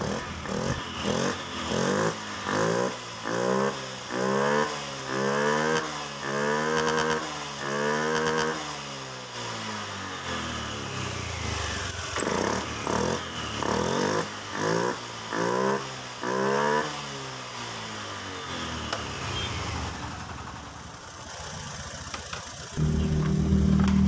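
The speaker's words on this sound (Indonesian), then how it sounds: "Setelah ini kita nyalakan dulu motornya, kita kontak on, kita tekan double starter." Honda Vario 110 FI scooter engine running during servicing, a close steady idle with repeated rising and falling revs in a regular pattern, then settling into a rougher continuous hum.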